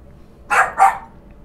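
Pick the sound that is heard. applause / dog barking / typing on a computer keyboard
dog barking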